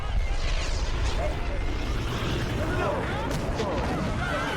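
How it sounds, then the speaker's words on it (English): Explosions from the special effects of Cloverfield, a found-footage monster movie, rumble and boom through heavy chaotic noise, with frantic voices talking and shouting over the blasts. "they blow their budget on special effects. Explosions."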